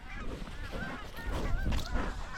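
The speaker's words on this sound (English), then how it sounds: "Picked that one out right out of that flock of freaking honkers." Geese honk in a dense, overlapping chorus from a flock on a spring snow goose hunt in North Dakota, loud and continuous for a couple of seconds with no talk.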